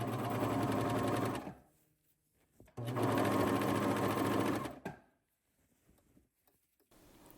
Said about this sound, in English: I'm going to insert from the bottom and just continue serging off the side seam.